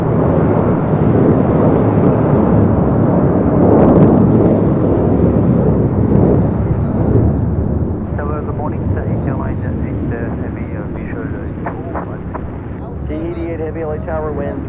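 An airliner takes off from runway 25 right at LAX, a loud broad jet roar rumbling close and then easing as it climbs away, with voices heard over it.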